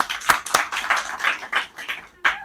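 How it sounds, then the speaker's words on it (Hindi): Audience at a Hindi kavi sammelan poetry recital claps briskly, a dense patter of many hands with a few sharper, louder claps standing out, brief and fairly close. "जोरदार ताली बजाइए"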